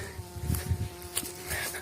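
Brief bee buzzing drifts close by in short bursts, the bees weakened after winter and gathering pollen, with a faint steady hum underneath and a few light knocks.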